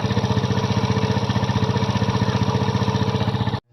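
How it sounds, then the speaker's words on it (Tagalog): A Kymco Visar 110 scooter engine with a bad connecting rod runs at a fast, steady idle with a rapid rhythmic knocking pulse throughout, close and loud, then cuts off abruptly. "kapag ganitong tunog talaga guys, marinig nyo sa inyong makina, ang problema nyan ay connecting rod"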